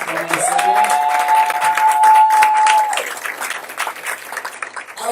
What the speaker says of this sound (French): le pasteur Moussa, nous allons acclamer le Seigneur